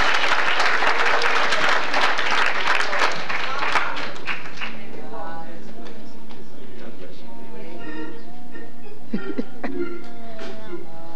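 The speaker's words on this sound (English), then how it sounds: "Clap your hands." A church congregation claps hands together at a conference, loud clapping for about five seconds that fades into quieter murmuring, a cough and scattered talk.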